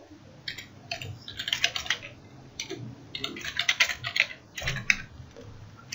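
Rapid computer keyboard typing and mouse clicks while a file is saved in LTspice, the keys clattering in quick bursts with short pauses between them.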